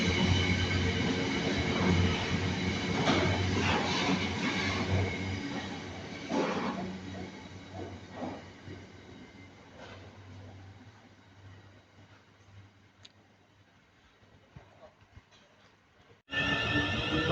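A Class 802 train runs through Milton Keynes Central station with a steady rumble of wheels and traction, fading gradually over several seconds before a sudden burst of noise returns at the end.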